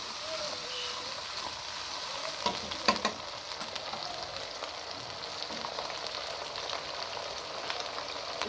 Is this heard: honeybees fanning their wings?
no